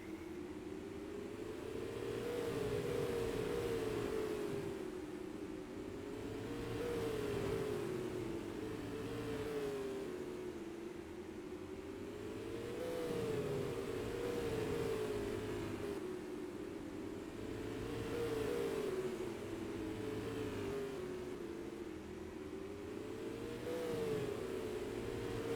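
SUPRS race cars roar around the oval at Star Speedway in Epping during the All-Star Classic 200, engines rising and falling in a repeating wave as the pack laps past at a distance, with no talk over it.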